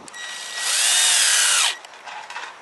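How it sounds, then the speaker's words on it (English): A power drill whirs loudly for about a second as it drives screws into a wooden jig for concealed cabinet door hinges, the motor rising then stopping abruptly, followed by faint handling noises. "Now I'm going to put a couple of screws in to fix it into place."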